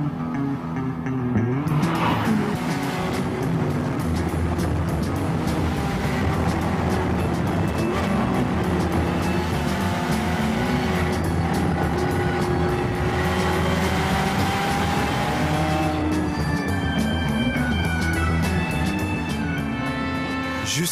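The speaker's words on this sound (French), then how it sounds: "La Ferrari California choisit de faire entendre sa propre musique." A Ferrari California driving on the road, its engine droning loud and steady throughout with rising and falling revs as it accelerates and shifts, heard close with no talk.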